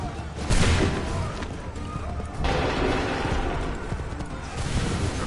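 Musket volleys in Assassin's Creed III remastered, broad crashing bursts of massed fire, two or three loud waves a couple of seconds apart over battlefield din and shouting.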